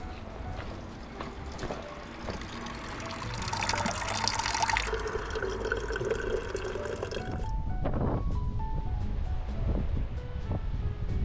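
Water runs steadily from a tap while filling up at a roadside stop on a bike trip, a continuous splashing rush that changes pitch as the container fills, with gusty wind in the background.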